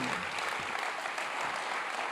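A conference audience at an investment event applauds steadily as a bank chief executive is called to the stage, a dense even wash of clapping from a large hall with no distinct voices.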